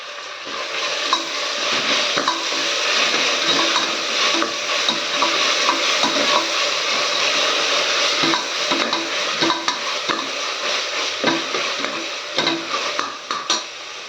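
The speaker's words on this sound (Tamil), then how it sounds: "இதில் நம்ம கொத்தமல்லி புதினா தலைங்க புதினா தலை போட்டு நம்ம இப்போ வதக்கலாம்" Coriander and mint leaves sautéing in a pan for beetroot biryani, with a steady close sizzle and frequent stirring scrapes throughout, occasional utensil clinks, no talk.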